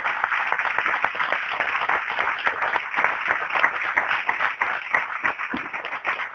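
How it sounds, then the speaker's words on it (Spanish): A church congregation bursts into dense, sustained applause during a Spanish-language sermon. The clapping is steady and full for several seconds with no voice over it. "Dan un aplauso al Señor"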